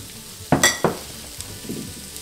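In a home kitchen during Thanksgiving cooking, food fries in a pan with a soft steady sizzle, broken by a few sharp clattering knocks of a utensil against the pan, and no one speaks.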